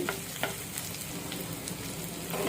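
Tomato pieces, cucumber and garlic sizzle steadily in a pan for a tangy cucumber chutney, with a continuous close frying hiss and a few soft stirring knocks.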